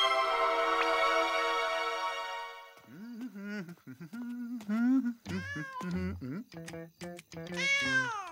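A cute kitten meows in a string of short, rising and falling cries, loud and close, after a sustained harmonic tone at the start.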